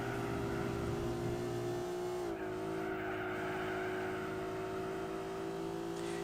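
Racing car engines in the video game Gran Turismo 4 drone together at high revs, a steady layered whine that shifts pitch partway through, continuous with no talking.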